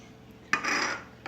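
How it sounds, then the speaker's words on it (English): Olive oil, chives and ranch seasoning mixed in a bowl, a brief scraping clink of utensil against bowl followed by a short rubbing stir, close and fairly quiet. "So in a bowl we're going to mix the olive oil, the chives,"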